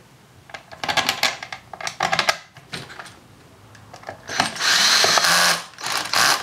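A power driver runs screws into the back of a severely damaged module under repair, giving a few short close bursts of whirring with brief pauses between, the last one longer and louder.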